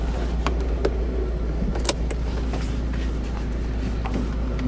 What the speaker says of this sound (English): Sounds like it's low on power steering fluid too.